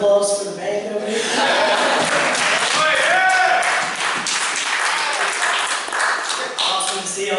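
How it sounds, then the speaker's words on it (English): A church audience at a Baptist gospel singing event applauds the band, a dense burst of clapping blended with voices and some tonal singing or cheering underneath, sustained for several seconds. "Let's give it a round of applause for the band over here."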